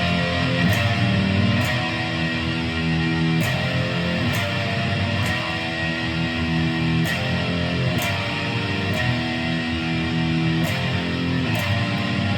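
Electric guitar playing the second half of the introduction to a song: ringing, sustained notes with sharply picked attacks at a steady, regular rhythm, played alone at a moderate level.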